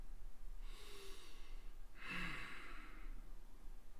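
A single person takes slow, audible breaths close by in a quiet room during a calm meditative moment, one soft inhale followed by a fuller exhale.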